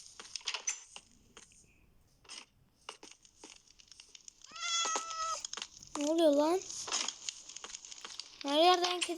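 Minecraft cats meow repeatedly in short, rising-and-falling cries that grow louder toward the end, mixed with game noises and someone talking over them.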